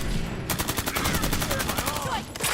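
Rapid automatic gunfire in the video game Fallout 4, a steady stream of evenly spaced shots lasting about two seconds, loud and close, with a brief pause before another shot.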